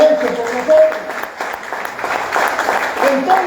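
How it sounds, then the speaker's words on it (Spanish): A church congregation claps together in brief applause, with the sound mixed under a voice speaking over it. "Den un aplauso a Jesucristo por eso que lo ha hecho por nosotros."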